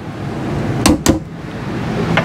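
Storage drawers beneath a bunk bed in a 2022 Vacationer 36F bunkhouse motorhome slide and knock shut, two quick close wooden thuds in a row with a faint bump afterward in a quiet interior.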